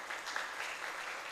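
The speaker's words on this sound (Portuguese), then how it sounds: "Dê um aplauso ao Senhor por isso." Church congregation applauding during a Portuguese-language sermon, a steady wash of clapping that holds at even loudness for about a second without spoken words.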